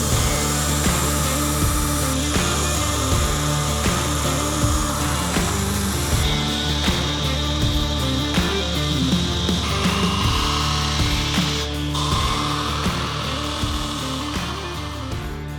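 Power grinder shaping the bevels and flats of a hunting knife blade, a continuous loud whirring grind with shifting pitch as the steel is pressed and moved across the belt, steady throughout with no talking.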